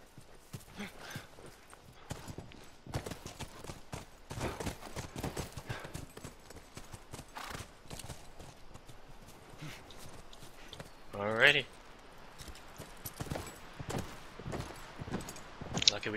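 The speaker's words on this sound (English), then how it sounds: "Come on, back to the horses." Rapid horse hooves clip-clop steadily over ground throughout in The Last of Us: Remastered, with a brief whinny midway and people talking over the galloping.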